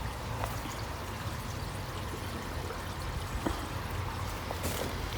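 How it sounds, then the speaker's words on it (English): Water trickles and pours steadily into small aquarium test kit vials, a continuous low splashing stream with faint clinks over it. "all you got to do is fill these vials up to the line"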